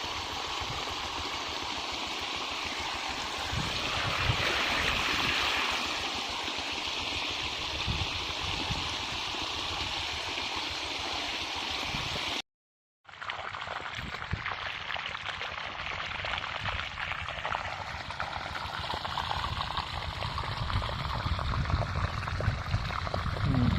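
A groundwater pump engine drives water through a pipe on a farm field, a loud continuous rushing gush over a running engine drone, briefly cut off near the middle before resuming.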